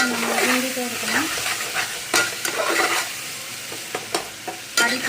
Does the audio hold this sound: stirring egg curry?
yes